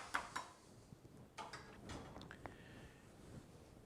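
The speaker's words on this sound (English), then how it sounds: "So I'm stirring this up" A spoon stirs green juice mixed with sea salt in a glass, giving a few faint, close clinks and light ticks spread irregularly over a few seconds.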